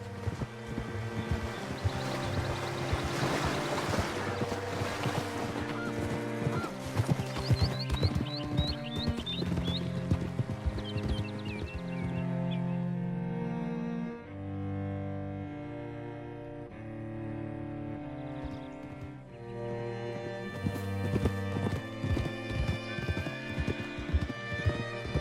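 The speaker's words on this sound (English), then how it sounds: "Hitch your horse up here." Horse hooves clip-clop in Red Dead Redemption 2, set against a steady, loud bed of game music that runs throughout and masks the footsteps.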